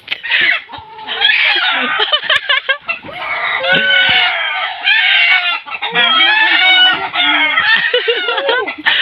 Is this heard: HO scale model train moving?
no